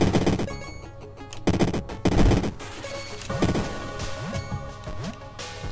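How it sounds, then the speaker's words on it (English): Rapid bursts of twin machine-gun fire from the retro platformer Tower Fortress, loud and close, with sharp crackling volleys, thuds and impact hits stacking over a steady game soundtrack. "Double machine gun!"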